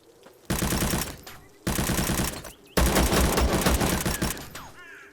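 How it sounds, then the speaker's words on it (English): Automatic gunfire from the 2D extraction shooter game Zero Sievert comes in three loud, rapid bursts: a short volley, a brief gap, another short volley, then a longer sustained stream, with no talking. "the gun sounds are pretty good"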